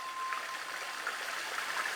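A river stream flows in a steady, broad rushing wash of water, close and unbroken, with no voices over it.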